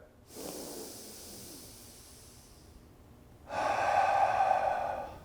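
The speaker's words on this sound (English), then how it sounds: "breathing in through your nose, you can breathe out your nose or your mouth" A deep breath drawn in through the nose, a long airy inhalation followed after a pause by a louder, raspy nasal snort-like breath, close and clear with no talking.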